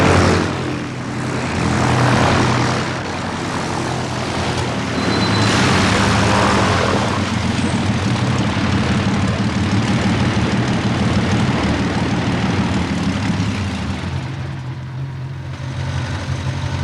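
An Antonov 25 propeller aircraft drones loudly and steadily, its deep engine hum and whirring propellers filling the whole stretch without anyone talking.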